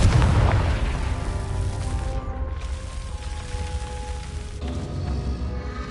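A Confringo spell explosion in the game Hogwarts Legacy opens with a loud, booming burst that settles into a long rumbling tail, backed by faint sustained tones.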